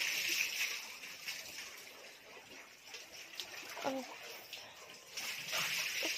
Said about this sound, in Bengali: আমাদের ঘরে বাবা সবগুলি এসব জল দিয়ে ধুচ্ছে।